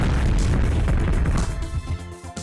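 Dropped shells explode in the tank video game Mass Destruction as a dense, rumbling blast of booming detonations. Several crashing impacts pile up, and the noise thins out and trails off near the end.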